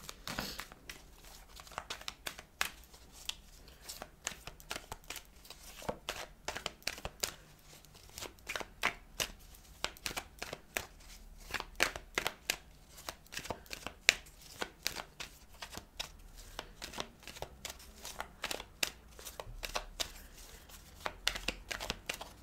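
Tarot cards are shuffled and gathered by hand for a reading, soft close crisp riffles and papery slaps coming in quick irregular bursts, fairly faint and with no talk.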